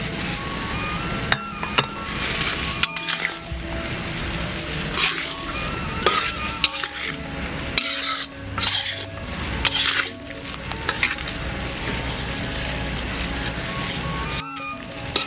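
Spice paste sizzling as it is sautéed in a pan for Cirebon-style sega bogana, a steady frying hiss with occasional clinks, running under loud background music.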